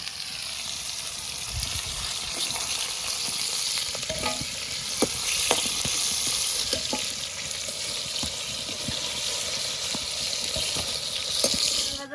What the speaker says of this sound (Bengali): ভাজা হয়ে গেছে এবার তুলে নেব